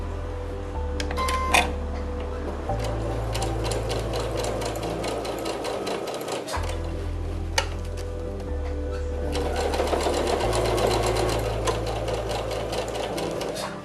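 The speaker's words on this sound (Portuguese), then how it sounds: "tá vendo que a minha máquina aqui, ó, na parte mais grossa, ela não vai" A domestic sewing machine slowly stitches through a thick seam on a bowl cozy, its motor humming in stretches with a rapid mechanical ticking of the needle, pausing briefly midway before resuming, close and alone.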